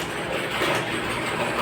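A sewing machine stitches along the edge of a zip chain on a ladies' pant, a continuous fast mechanical whirring and rattling at close range.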